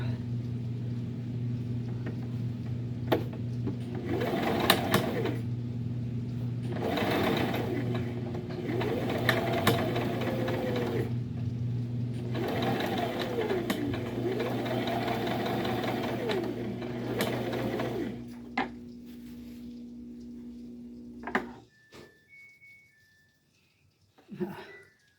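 Sewing machine stitching a fabric Christmas tree indoors, a steady mechanical hum running in repeated bursts for about twenty seconds before stopping, with faint household noise around it.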